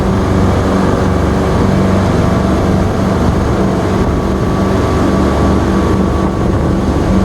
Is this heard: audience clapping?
no